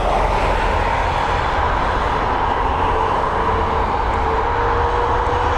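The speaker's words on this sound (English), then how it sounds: "And it's Boeing 737 MAX now on departure" A Boeing 737 MAX departs Dublin Airport with a loud, steady jet engine roar, close and continuous with a broad rumbling drone and no talk over it.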